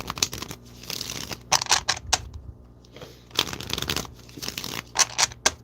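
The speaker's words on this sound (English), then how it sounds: "Let's shuffle the deck." A deck of tarot cards being shuffled by hand, close up, in repeated crisp riffling bursts separated by brief pauses, with no talking.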